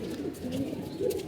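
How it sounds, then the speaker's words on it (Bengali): Racing pigeons coo softly at feeding time, low throaty burbling calls rolling close by for a moment with no talking. "কবুতরগুলো খাবার দিয়ে দিচ্ছি আগে ভাগে"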